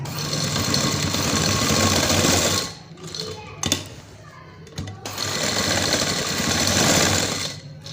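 A sewing machine hums loudly and continuously while stitching a design onto a trouser cuff. It pauses briefly in the middle, then runs again steadily.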